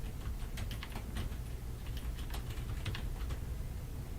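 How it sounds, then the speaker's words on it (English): Rapid, uneven clicking of keys on a computer keyboard, close and fairly quiet, typed in short bursts with no talking. "I know you guys can probably hear me typing"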